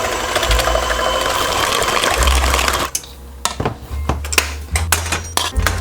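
Pecan pie filling is mixed in a bowl with a whirring electric mixer that runs steadily for about three seconds, then gives way to clinking and scraping against the bowl in short irregular bursts.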